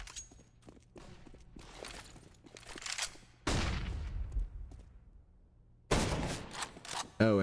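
Counter-Strike: Global Offensive match gunfire, quiet scattered shots and footsteps giving way to two loud bursts of rapid fire, with game effects between them.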